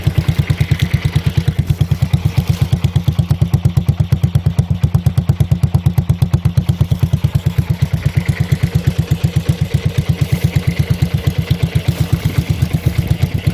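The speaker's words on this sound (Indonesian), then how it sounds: "Untuk suara knalpotnya." A Honda CB100 K2 motorcycle exhaust putters up close in a steady, rhythmic low throb, each pulse distinct and unvarying.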